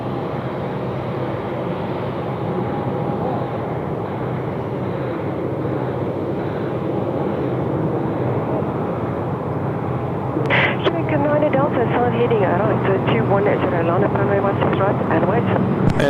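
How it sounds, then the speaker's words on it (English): A Qantas Airbus A330-300 airliner under tow on a taxiway at Sydney Airport in wet weather gives a steady, broad engine and ground rumble with wind noise, and a voice speaks briefly near the end. "Qantas A330 300 series under tow there,"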